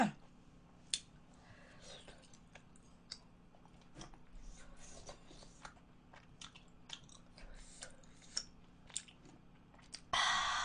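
Close chewing and biting while eating spicy tteokbokki rice cakes, irregular soft crunches and clicks spread across the clip, with a few faint vocal sounds and a louder burst near the end.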